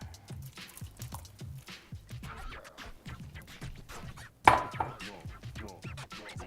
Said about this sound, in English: let's go ahead and add our potatoes